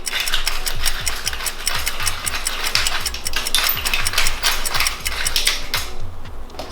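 A hand pepper grinder cracks black pepper with a fast, even ratcheting crunch, heard close and alone for several seconds.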